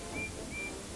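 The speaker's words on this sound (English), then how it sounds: "he heard another engine's whistle" A steam engine whistle in an animated train story gives two short, thin, high toots in quick succession over a low background rumble.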